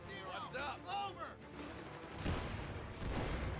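Gunfire and explosive thumps from an airstrike in the World War II strategy game Company of Heroes 3 during the Italian campaign at Salerno, rumbling steadily at moderate level beneath a voice.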